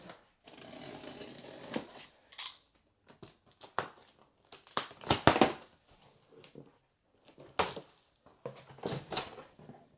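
A cardboard box for an Arcade1up display is cut open, with bursts of scraping, crinkling tears and ratcheting rasps separated by short silences, close and moderately loud.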